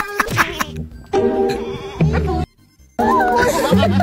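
Goat bleating in a short, playful farmyard scene, a few loud wavering bleats with a brief gap of quiet between them, along with some chuckling.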